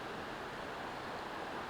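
A waterfall at New York Creek, heard from a distance on a rainy day, gives a steady, even rushing hiss with no breaks and no voices.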